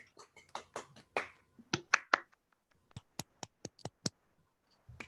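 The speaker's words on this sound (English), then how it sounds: "please unmute and clap" Sparse online applause from a remote audience after a university physics colloquium talk, a handful of separate sharp claps and snaps scattered unevenly over a few seconds, each one close and isolated with quiet gaps between them.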